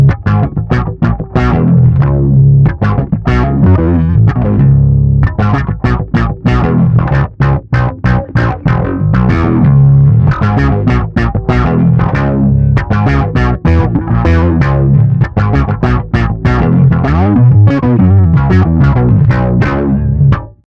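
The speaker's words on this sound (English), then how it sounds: "And now let's hear what I would call an octave filter drive." Electric bass played through a Boss ME-90B multi-effects unit on an octave filter drive setting: a loud, continuous run of distorted, synth-like plucked notes with a steady rhythmic pulse, and no talking.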